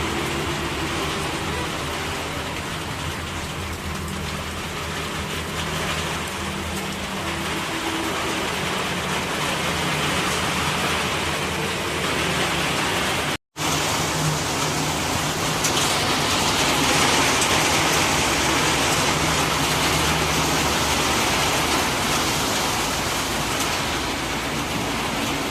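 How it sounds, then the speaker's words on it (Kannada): Heavy night rain pours outdoors in Budagumpa as a dense, steady roar that barely changes, broken only by a brief dropout midway. "ಮಳೆ ನೋಡ್ರಿ ಹೆಂಗೆ ಬಿಡ್ಲಿಕ್ಕತ್ತದ"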